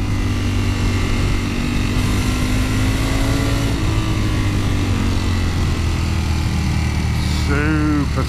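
Ducati Panigale V4S motorcycle engine droning steadily while riding on the road, with loud wind rush and a rising rev near the end, and a rider's voice talking over it.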